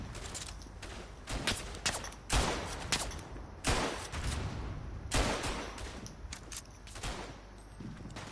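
Rifle and machine-gun fire in the World War I shooter Verdun, dense battlefield volleys with repeated sharp cracks and bursts, some close and loud, others distant, continuing throughout.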